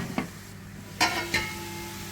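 A spatula scrapes and stirs soybean, cabbage and carrot in a pan, giving three short distinct strokes over a low steady sizzle, close and fairly clear.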